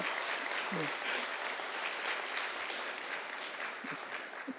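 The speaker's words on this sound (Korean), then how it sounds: "박수로 환영해 주시기 격려해 주시기 바랍니다." Sustained applause from a church congregation, heard at some distance, with a few faint voices mixed into the clapping.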